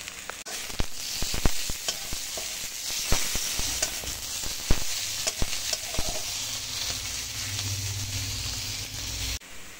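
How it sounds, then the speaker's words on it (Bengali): Onion, ginger and garlic fry in a pan with a continuous close sizzle, while repeated spatula scrapes and taps punctuate the stirring throughout. "পেঁয়াজ, আদা, রসুন ভাজা ভাজা হয়ে গেছে"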